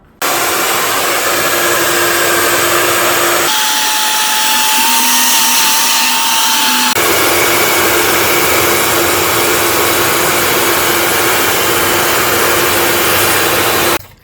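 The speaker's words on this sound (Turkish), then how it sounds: "Şimdi ben fön makinesini tutarak buradaki silikonları sökmeye çalışacağım." A hair dryer heats the silicone along the side of a kitchen stove to loosen it, blowing loud and steady for many seconds, its pitch briefly shifting midway before returning.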